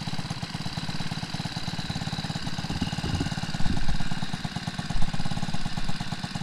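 A four-stroke motorized bicycle engine, cold-started at 35 degrees after sitting for a while, runs steadily at close range with a rapid, even chugging beat and a couple of brief revving swells.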